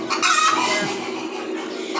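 Chickens cluck softly and steadily against a constant background hum, with a brief squawk early on.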